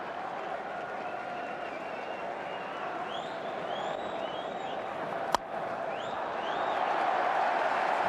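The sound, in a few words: cricket crowd disturbance at stadium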